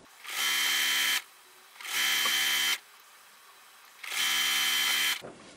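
A sewing machine stitches two fabric pieces together in three loud, steady bursts of rapid mechanical whirring, separated by brief pauses.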